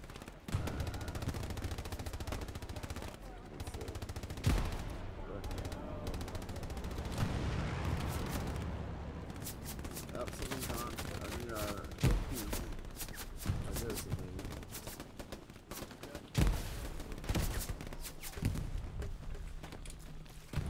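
Machine gun bursts crackle through a busy Hell Let Loose battle at Stalingrad, mixed with other gunfire and distant booms, while players talk over the shooting.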